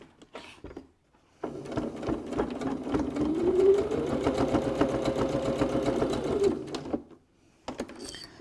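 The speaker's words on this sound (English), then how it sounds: "So I'm going to now stitch the second pocket on" A sewing machine runs a steady stay stitch on a cosmetic bag pocket, a fast even whirring rattle up close that starts after a brief pause, holds for about five seconds, then stops and gives way to quiet handling.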